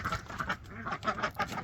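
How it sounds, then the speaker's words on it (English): Ducks let out on grass quack in quick repeated bursts, several nasal calls overlapping close by in an uneven, chattering rhythm. "We let the ducks out on the grass today."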